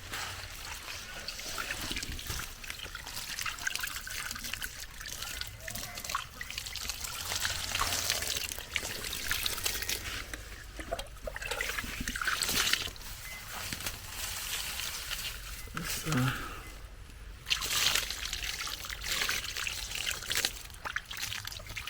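Water poured from a container onto sesame plants in a garden, a continuous trickling and splashing stream that wavers in intensity, fairly faint and heard alone.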